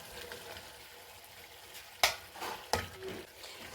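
Khagga fish pieces fry with masala in ghee in a pan, a soft sizzle under two sharp clanks of a spoon or utensil against the pan, followed by brief scraping.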